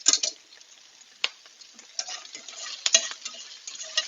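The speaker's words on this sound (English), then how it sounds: "we've got that sizzling away nicely" Lamb shanks sizzle and crackle in a pan over a gas flame, with irregular pops and spitting bursts against a quieter steady frying hiss, close and fairly loud.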